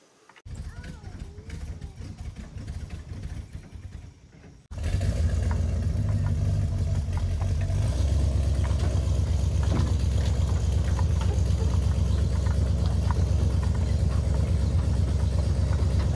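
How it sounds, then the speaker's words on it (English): A Chevrolet Apache dually pickup, a barn find unused for 20 years, idles with a deep, steady low exhaust rumble that starts abruptly and holds loud and constant, after a few seconds of quieter background noise. "First time I've heard the dually exhaust"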